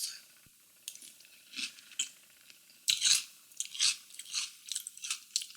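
Soft, soggy crunching as cereal soaked in milk is chewed close up, in irregular bursts of mouth sounds separated by short pauses.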